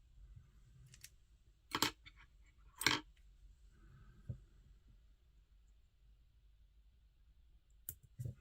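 Sharp scissors snipping feather fibres while tying a Coch y Bonddu fly, a few crisp separate clicks spaced seconds apart in an otherwise quiet room.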